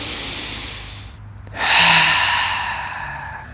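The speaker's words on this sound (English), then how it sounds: "inhaling deeply through the nose and exhaling it all out through the mouth" A deep breath drawn in through the nose, followed by a long, breathy exhale out through the mouth during a yoga flow, close and soft against a quiet background.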